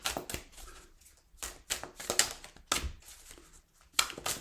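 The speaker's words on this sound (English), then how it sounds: "One more shuffle." Tarot cards being shuffled by hand in quick, irregular bursts of soft riffling and slapping, close and quiet with short pauses between.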